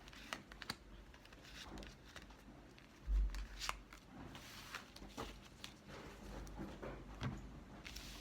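Tarot cards shuffled and drawn by hand, a steady run of soft papery riffles and flicks with brief taps, close and quiet with no talk.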